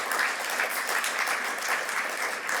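An audience claps for a Hoover Institution scholar, producing a steady, full round of applause from many hands that stays even throughout without voices.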